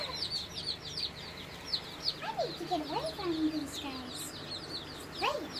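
Black Australorp chicks and roosters cluck and call repeatedly at close range, with high peeping chick chirps over a steady background hum and lower rising clucks and crows scattered through.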